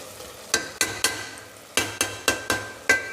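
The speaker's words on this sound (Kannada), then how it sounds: "ಬರೀ ಗರಂ ಮಸಾಲನ ಬಳಸಿ ಫ್ರೈ ಮಾಡ್ತಿದ್ದೀನಿ" Rice with garam masala being stir-fried in a pan, a quiet steady sizzle punctuated by eight sharp scraping strokes of a spoon against the pan in an uneven rhythm, with no talking.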